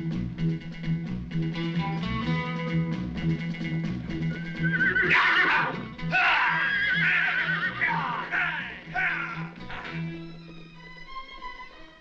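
Horses in a Western film whinny loudly in several sharp bursts through the middle, over a steady musical background, with no clear hoofbeats of riding off.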